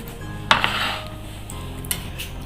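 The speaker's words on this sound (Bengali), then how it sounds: "একটা ডিমকে মাঝখান দিয়ে কেটে নিচ্ছি।" A knife halves boiled eggs one at a time, giving a sharp tap and a few light clinks against the cutting surface over a faint, steady room hum.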